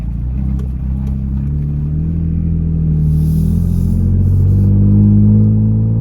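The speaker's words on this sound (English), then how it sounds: "let you guys hear what it sounds like if I was just enjoying the day driving around" Toyota Tacoma fitted with a dual exhaust, cruising through a subdivision: a steady, loud low engine drone with rising tonal rumble as it accelerates, continuous throughout with no talking.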